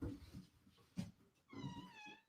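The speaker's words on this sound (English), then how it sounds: "Sorry, the kitty's interrupted." A pet cat lets out a couple of close, fairly soft meows, the last one a drawn-out rising call, with quiet room noise between them.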